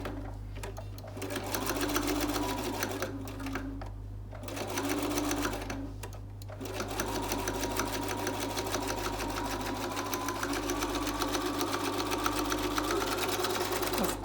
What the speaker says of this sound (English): at the curved middle line we sew them together with a 1/4 inch seam allowance